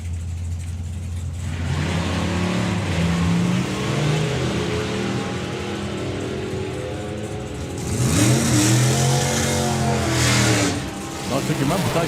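A drag racing car makes a run at a drag strip, its engine roaring and revving through rising and falling sweeps, easing off midway before a second louder burst of acceleration near the end; a commentator's voice may sit faintly under it.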